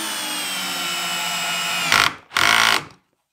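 A power drill drives a screw in, a steady high motor whine for about two seconds, then two short loud bursts as the screw seats, ending in silence.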